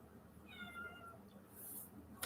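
A cat gives a single drawn-out meow up close indoors, clear over a low room hum, followed by a brief sharp click near the end.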